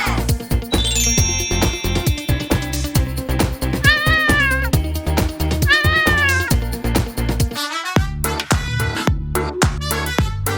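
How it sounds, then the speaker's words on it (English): A cartoon cat meowing repeatedly in a bright, toy-like tone over a bouncy tune with a steady plinking beat, the meows rising and falling in short, sung phrases. "The cat goes, meow! Meow!"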